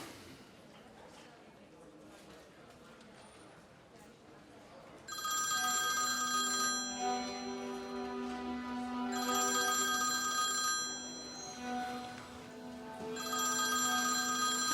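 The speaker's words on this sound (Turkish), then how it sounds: "Metin Amin'in odasında bu telefonu bulduk." A mobile phone rings in a quiet indoor room, its electronic ringtone starting abruptly after about five seconds of near silence and repeating in loud bursts through the rest of the clip, with no talk over it.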